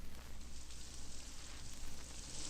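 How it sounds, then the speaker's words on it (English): Steady rain falls over woods and fields, a soft, even hiss of drops that stays constant and fairly distant throughout, with no voices. "It is raining."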